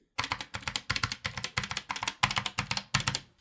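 Close typing on a Keychron K8 mechanical keyboard with brown switches, crisp clustered key clicks in quick bursts of several strokes each, repeating steadily with no voices.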